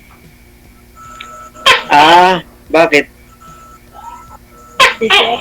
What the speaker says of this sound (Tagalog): Grabe yung tunog ng tuko ah.